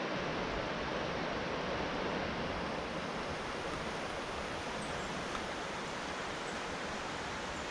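A trout stream flows with a continuous, even rush of water, a broad steady roar that stays unchanged throughout, with no voices.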